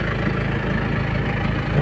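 Isuzu TFR pickup engine idling steadily just after a first-try start, a continuous low rumble held at an even level throughout with no voices.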